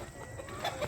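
Chickens cluck softly in a dark farm coop at night, a brief, faint burst of low hen calls against a quiet background.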